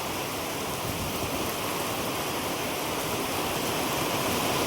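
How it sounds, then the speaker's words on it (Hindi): Heavy monsoon-style rain pours steadily and loudly, a dense continuous hiss with no pauses and no voices. "बारिश काफ़ी तेज़ शुरू हो गई है"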